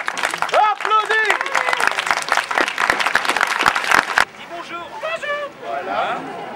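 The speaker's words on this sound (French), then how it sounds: "il faudra applaudir" An audience at a medieval festival show in Montrond-les-Bains claps through the first four seconds while voices call out. After an abrupt cut, talk and chatter continue with only scattered sound beneath.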